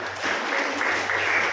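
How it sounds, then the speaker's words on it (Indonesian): Applause from a church congregation, a steady wash of many hands clapping for the full stretch at moderate loudness, with no one talking over it. "Beri tepuk tangan buat Oma dengan Ibu Linda, beri tepuk tangan dulu."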